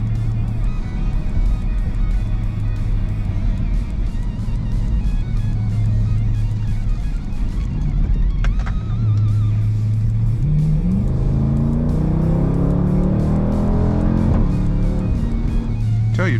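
Dodge Durango SUV driving through roundabouts, a steady engine drone and road noise from inside the cabin, with the engine pitch climbing as it accelerates out of the turns.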